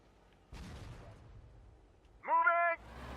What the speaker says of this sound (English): I'm going to fire with the cannons there.